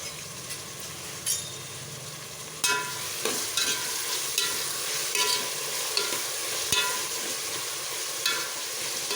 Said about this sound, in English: I will fry and brown the onions